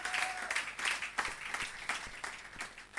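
A church congregation applauds and cheers in worship, a dense wash of clapping that swells and fades in waves, fairly loud and close, with no speech over it.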